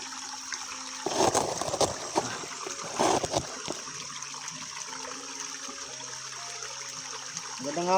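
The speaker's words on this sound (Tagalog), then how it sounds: "Lakas na ng tubig dito tol." Strong water flow at a sacred spring, a steady rushing and splashing that runs throughout, with louder gushing bursts near the start and middle.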